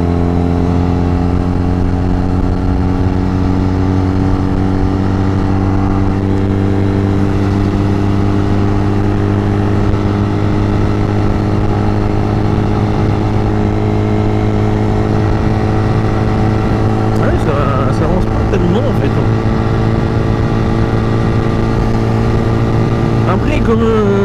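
A Honda Rebel 125 bobber motorcycle engine droning steadily at speed, loud and close with a constant hum and wind rush. The pitch shifts slightly toward the end as the rider drops a gear, and a voice talks over it.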